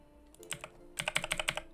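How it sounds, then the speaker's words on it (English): Computer keyboard keys typed in a quick, close burst of clicks, a few scattered taps first, then a denser run of strokes, with no talk. "my keyboard."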